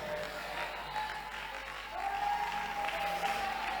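An audience at a spoken event gives steady, dense applause that swells slightly partway through, with a faint tonal hum running underneath.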